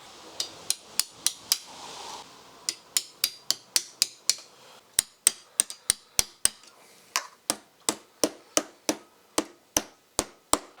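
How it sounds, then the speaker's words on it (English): Hammer blows beating out a dented exhaust on a Kawasaki KLX450R dirt bike, a steady series of about thirty sharp metallic strikes at a fairly even rhythm, close and loud with no talking. "this bit of the exhaust is all dented, so I've got the old hammer out and I'll try and fix that."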